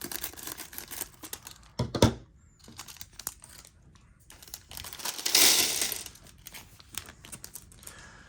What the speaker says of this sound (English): we're going back to the scissors because for some reason this is stronger plastic